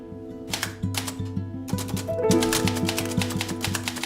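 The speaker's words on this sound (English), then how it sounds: "Listen, that's his typewriter going now." A typewriter clatters in quick bursts of sharp key strikes, with carriage and bell-like mechanical clunks mixed in, heard close and alone with a faint background hum.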